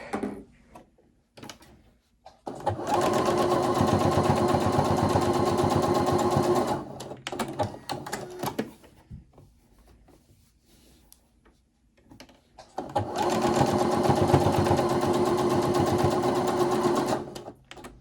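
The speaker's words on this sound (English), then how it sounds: "Now let's sew these." A sewing machine stitches fabric darts on a soup bowl cozy, running in two long, steady whirring bursts with a quieter stretch of handling clatter and small knocks between them.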